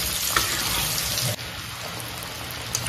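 Chicken pieces frying in hot oil for a KFC-style recipe give a steady, close, dense sizzle with a faint crackle and a brief clatter, heard alone with no talk.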